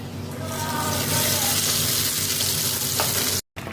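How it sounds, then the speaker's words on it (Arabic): Rice kofta dropped into hot oil, a loud dense bubbling sizzle that fills the clip almost without a break and cuts out briefly near the end. "الكفته بتاعتنا في الخليط ده زي ما انتوا شايفين كده، وبعد كده ننزل بيها في الزيت"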